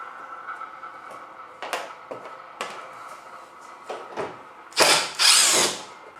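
Power drill fitted with a T15 Torx bit backing Torx screws out of a 2007 GMC Sierra tailgate, with scattered clicks and taps followed by two short, loud whirring bursts near the end.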